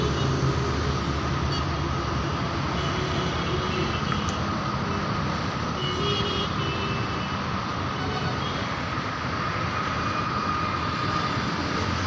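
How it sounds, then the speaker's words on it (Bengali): An airplane at an airport, heard as a steady, loud broadband engine roar that holds throughout without a break, with no talking. "দেখছেন আপনারা এয়ারপোর্টের প্লেনটা দেখছেন আপনারা।"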